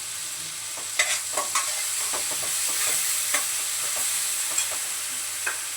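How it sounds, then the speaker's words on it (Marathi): Onion and tomato sautéing in a home kitchen pan, a steady close sizzle broken by scattered scraping clicks of stirring, with no talking. "आता इथे कांदा टमाटा वगैरे चांगला परतलाय."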